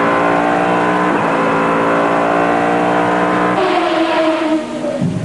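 A 1998 FIA GT Championship race car, the number 12 Persson Motorsport entry, pulls out of the pits with a loud, steady engine note that rises in pitch, then drops and climbs again as it shifts gear.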